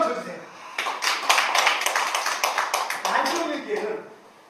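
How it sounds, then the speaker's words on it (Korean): Applause from a lecture audience breaks out and holds steady for several seconds, a dense patter of many hands clapping, tapering off at the end. "박수 한번 쳐주세요"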